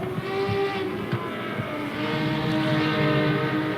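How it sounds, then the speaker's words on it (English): A Procar race car's five-cylinder engine in the RaceRoom racing game drones loud and steady throughout, holding a high, buzzing tone without pauses. "Just listen to that engine out of the Procar."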